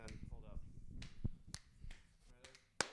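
A finger snap made right in front of a podcast microphone: a few sharp, bright clicks standing out against low background noise and murmuring.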